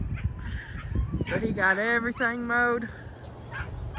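Aussiedoodle puppies bark, yip and whimper in high, wavering bursts, fairly close, over and around a woman's speech.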